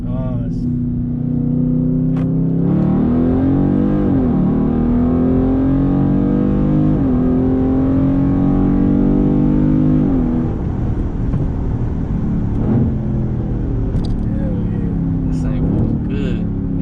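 A loud, deep Dodge Charger Scat Pack widebody engine with a muffler-delete exhaust drones and rises through several revs and gear changes, heard close from inside, with people talking over it.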